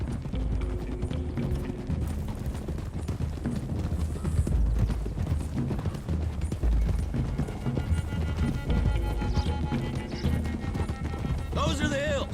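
Horses gallop in Red Dead Redemption 2, with rapid, continuous hoofbeats up close, mixed with game music and ambience and an occasional snort, and no one speaking.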